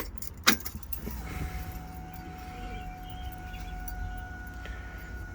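A 1961 Ford Falcon with a 5.0L V8 and Holley Sniper EFI gets ready to start. A sharp jangle of keys is followed by a steady electric whine as the fuel pump primes and the system powers on, with a faint low idle-like hum underneath.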